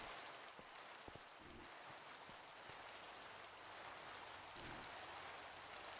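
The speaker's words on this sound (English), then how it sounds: "Ah, I hate the fake rain." Steady rain from the Minecraft GregTech New Horizons modpack, a dense, even hiss that runs without a break for the whole stretch, with a few soft low thumps and no talking.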